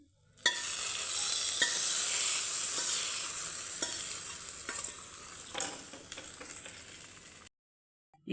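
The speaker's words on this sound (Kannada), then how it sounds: "ಈಗ ಒಗ್ಗರಣೆ ಹಾಕ್ಕೊಳ್ಳೋಣ." Tempering (oggarane) with asafoetida dropped into hot oil for an easy saru, a loud steady sizzle and crackle with scattered pops and stirring clicks, cutting off abruptly near the end.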